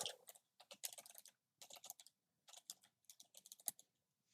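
Someone types on a computer keyboard in close, crisp bursts of rapid key clicks separated by short pauses, with no talking.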